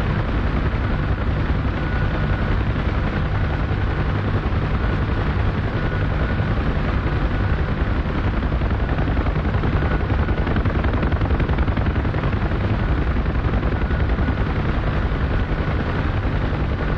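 A UH-1H helicopter on a troop transport flight gives off a loud, constant rotor thump and turbine roar that stays close and unbroken throughout, with no speech.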